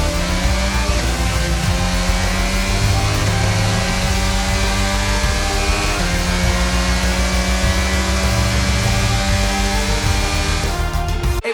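A Formula 1 race car engine in the F1 22 video game, at the Brazilian Grand Prix, drones loud and steady with a high, continuous whine that barely changes, close up and with no voices.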